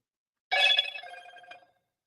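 A Motorola phone plays its short startup chime, a bright tonal jingle lasting about a second, close and alone in silence.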